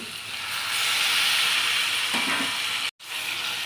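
Tomatoes hit a hot pan of onion and ginger-garlic paste, a loud, dense frying hiss that holds steady with a brief stir near the end and a momentary cutout.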